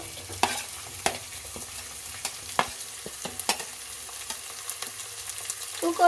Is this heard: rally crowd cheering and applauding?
no